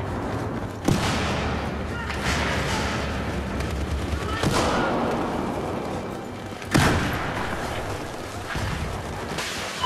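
Gunfire in the video game Battlefield 4 crackles in dense bursts against a constant roar of battle, with several sharp louder shots standing out and a voice speaking over it.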